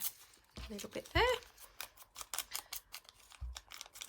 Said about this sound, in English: I do love this paper, it's nice and crinkly, makes that lovely noise.